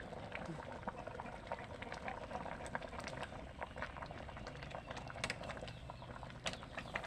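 Khi lek (cassia leaf) curry bubbles in a pot with a soft, continuous boiling texture and scattered small pops, fairly quiet, while a person talks faintly in the background.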